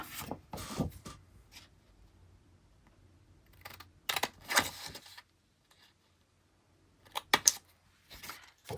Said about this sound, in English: Have the big scissors.